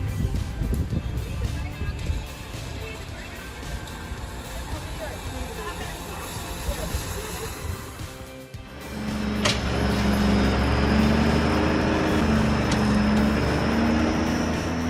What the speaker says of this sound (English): engines roar, water sprays high, and every eye watches as the wheels power forward